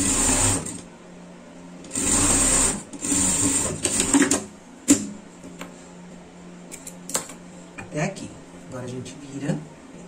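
A sewing machine stitches a two-colour garment with black thread on top and white below, running in loud whirring bursts with pauses and clicks while a person talks nearby.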